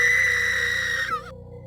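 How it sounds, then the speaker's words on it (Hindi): A high, sustained scream sound effect from a horror story, like a woman shrieking with full force. It holds a shrill tone and then bends and breaks off abruptly after about a second. "प्रिया पूरी ताकत से चीख पड़ी।"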